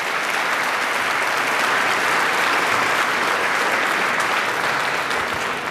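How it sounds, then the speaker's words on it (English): Steady, dense applause from a large conference audience at CPAC Hungary 2025, a sustained wash of many hands clapping at even loudness without breaks. "Give a big applause to them"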